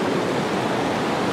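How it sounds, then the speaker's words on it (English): A waterfall on a mountain hike at the Delaware Water Gap roars in a steady, dense wash of rushing water, close and loud, with no voices. "I'm gonna get closer to the waterfall so you guys can see it."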